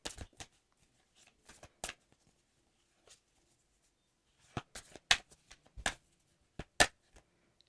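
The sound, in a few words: shuffling playing cards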